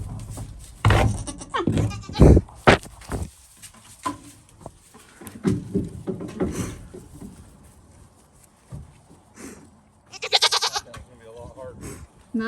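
Goats bleat in a mobile paddock amid shuffling, patter and a person talking to the herd, with the cries rising and falling at close to middle distance.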